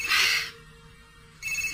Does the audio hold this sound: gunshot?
no